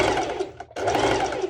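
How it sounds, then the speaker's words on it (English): A sewing machine runs a straight stitch through layered lycra swimsuit fabric, a steady close whirring motor that pauses briefly and then starts again. "it's just a straight stitch which will help"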